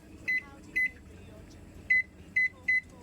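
An old National microwave oven hums steadily while a run of five bright, identical electronic beeps sounds in two groups, close and clear over the motor drone.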